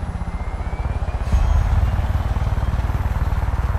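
Helicopter in the Far Cry 5 video game, a steady rapid rotor thump with engine drone that swells slightly partway through, continuous and fairly loud.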